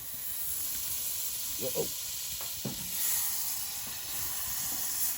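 Garlic butter sizzling on a very hot Danchel Fast Fold titanium tent stove, a steady faint hiss with soft crackles and a few short louder pops, under brief speech.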